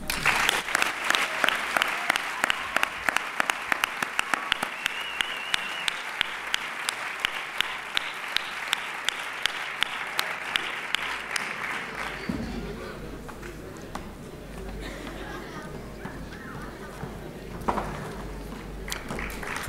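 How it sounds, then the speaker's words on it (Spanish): Applause at a sports merit awards gala in San Sebastián de los Reyes, a dense hall of clapping for the honourees for about twelve seconds, then thinning out to scattered claps with murmuring and a voice over the room. "Fuerte el aplauso para ellos."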